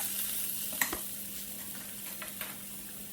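Mushrooms fry in oil in a pan, giving a quiet, steady hiss broken by a few light clicks and scrapes from stirring.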